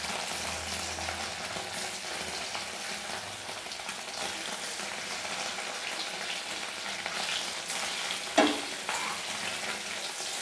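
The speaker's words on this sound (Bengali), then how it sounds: "এবারে ডিমের পিসগুলোকে আমি ভেজে নিচ্ছি।" Egg pieces frying in oil for an egg curry give off a steady, close hiss of sizzling that holds evenly throughout, with one sharp clink near the end.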